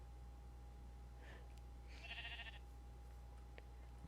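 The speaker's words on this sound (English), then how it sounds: "Where'd that sheep come from?" A sheep bleats in a video game, a short wavering call near the middle, heard faintly over a steady electrical hum with a couple of small clicks around it.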